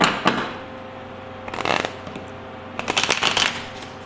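Tarot cards are shuffled in several quick riffling bursts, close and crisp, with short quiet pauses between them.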